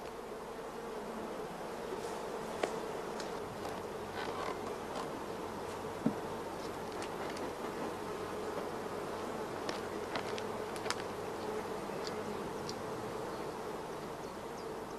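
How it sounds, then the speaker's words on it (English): Honey bees fill a queen-rearing hive where nurse bees feed young larvae royal jelly, a dense, steady buzzing drone running throughout with a few faint clicks and no voices. "Here the nurse bees provide the young larvae with large quantities of royal jelly."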